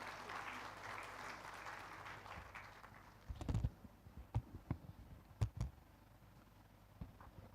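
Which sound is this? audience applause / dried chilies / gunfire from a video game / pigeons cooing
audience applause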